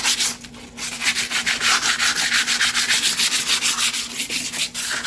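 Hand sanding of a wooden table, a close, steady back-and-forth rasping in quick rhythmic strokes with a brief pause near the start, no voices.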